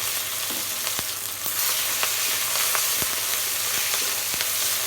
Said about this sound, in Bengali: দিয়ে দিলাম পেঁয়াজ